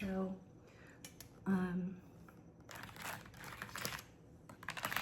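Keystrokes on a mechanical computer keyboard click in bursts of quick, close taps, partly overlapping soft speech near the start, growing busier toward the end.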